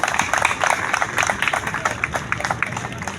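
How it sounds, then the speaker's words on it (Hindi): An audience at a police battalion's foundation day celebration gives a round of dense, loud clapping that goes on throughout, with a voice briefly heard underneath. "उस बिटिया के लिए भी जोरदार ताली बजना चाहिए"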